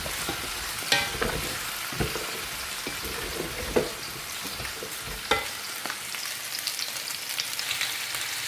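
Onions sautéing in a pan in a Paris food-service kitchen: a steady, fairly close sizzle runs throughout, broken by scattered scrapes and knocks of stirring, with no talking.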